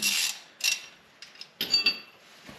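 A ratchet tightens a bolt on a Jeep WJ rear long arm, giving several short bursts of rapid metallic clicking separated by pauses, close and clear.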